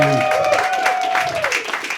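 A comedy show audience applauds and cheers at a sold-out night, a short burst of clapping under a voice that rings out loudly at first and then trails off.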